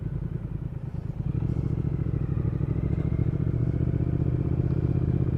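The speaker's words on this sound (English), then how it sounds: "this is the Triumph Speed Twin 2019. It's the I developed 1200 Bonneville engine" A 2019 Triumph Speed Twin with the 1200 Bonneville engine runs with a steady, low parallel-twin rumble, idling then settling into an even throb, close and unaccompanied by talk.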